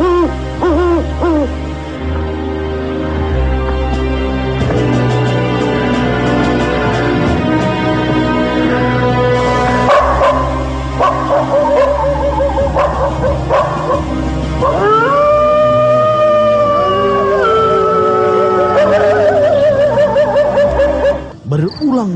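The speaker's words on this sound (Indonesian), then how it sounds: "Suara lolongan serigala hutan seakan menyambut sesuatu yang gaib." Forest wolves howl in long, rising and falling wails that answer one another over a dark, eerie musical backdrop, growing stronger toward the end.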